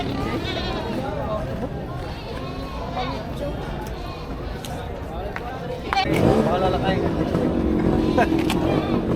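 Goats bleat repeatedly amid a noisy outdoor livestock trading market, with people talking and a motor droning in the background; the bleats grow louder and denser toward the end.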